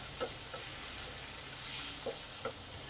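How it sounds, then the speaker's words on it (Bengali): Tomatoes frying in a pan for a vegetarian kakrol (spiny gourd) curry, a steady sizzling hiss with occasional stirring scrapes, close and continuous, no voices. "এবার টমেটোটাকে ভালো করে ভেজে নেব"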